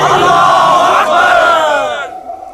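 A film crowd roars back a loud, massed battle cry of Naara-e-Takbir in a Kashmir uprising scene, a sustained chorus of many voices that swells and then fades out after about two seconds.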